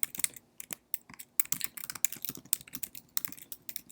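Rapid, irregular keystrokes on a computer keyboard as a name and email are entered into a lease account form, clicking steadily for about four seconds with no voices.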